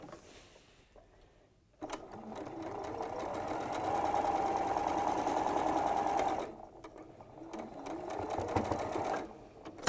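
A sewing machine stitching rows of a quilt in Liberty quilting cotton runs in two bursts of steady whirring, near and clear, with a brief quiet pause and some faint handling sounds around the stitching.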